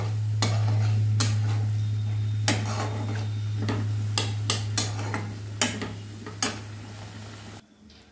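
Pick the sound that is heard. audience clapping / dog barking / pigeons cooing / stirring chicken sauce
stirring chicken sauce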